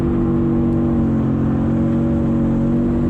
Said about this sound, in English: That exhaust sound is beautiful.